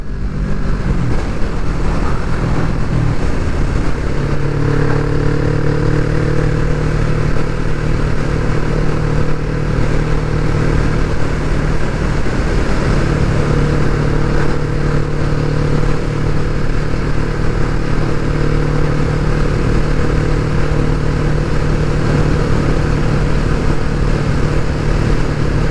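Kawasaki Vulcan S motorcycle, a 2020 model, accelerating hard in a lower gear on a test ride, its engine loud and continuous with steady revving drone and rising pitch throughout, close to the mic, no talk.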